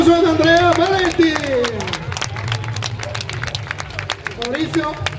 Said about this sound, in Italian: un grande applauso ad Andrea Valenti